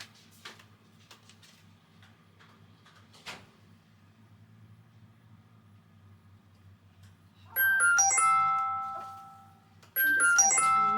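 A mobile phone rings indoors in a home sewing room: two bright bursts of a melodic electronic ringtone, the first starting about two-thirds of the way in and the second after a short pause, loud against quiet background hum.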